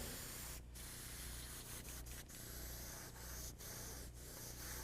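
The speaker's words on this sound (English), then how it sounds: "We're going to spray out all that color that was in there." An airbrush hisses steadily as it sprays out leftover light blue paint while being cleaned between colors, a continuous close air-and-paint spray with a few brief dips and no talking.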